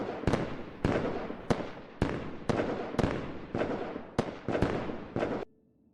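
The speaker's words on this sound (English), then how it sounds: "The fireworks?" Fireworks celebration in the video game Hollow Knight: Silksong: about nine sharp bursts pop one after another in a quick, fairly even rhythm, each trailing off briefly, before cutting to near silence.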